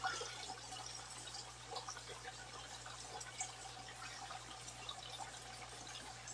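Steady running water in an aquaponics setup, a continuous close hiss of flowing, trickling liquid with no pauses and no talk.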